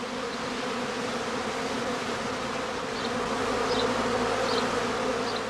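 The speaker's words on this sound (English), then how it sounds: "the humming of the emerging bees is a good indicator of the progress of swarming" A dense, steady hum of a prime swarm of honey bees emerging from a skep, loud and continuous throughout, close by.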